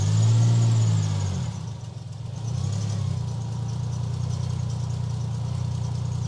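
Toyota Supra Mk4 with a 2JZ engine idling on a cold start, untuned, a steady close low rumble that dips briefly then settles into an even idle.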